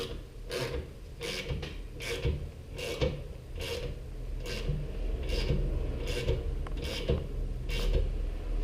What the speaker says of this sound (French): on reprend les mêmes outils. Mais cette fois-ci, au lieu de venir desserrer, on va venir serrer.